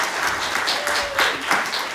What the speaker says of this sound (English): let's give a round of applause for Linda